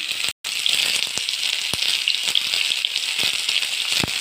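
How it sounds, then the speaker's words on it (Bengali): Potato, pointed gourd, ridge gourd and plantain fry in hot oil, giving a constant bright sizzle with crisp pops and crackles scattered through it and a very brief dropout near the start. "সবজিগুলো ভালো করে তেলে মেরে ফেলে ভেজে নেব"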